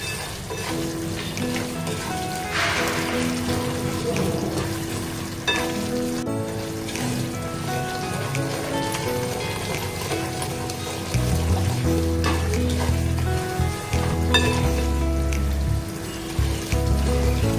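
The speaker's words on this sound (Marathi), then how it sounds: "रवा छान आपला भाजत आलेला आहे" Semolina (rava) roasting in a pan while being stirred for sheera, giving a steady soft sizzle and gritty scraping that runs on at moderate volume, with no talk.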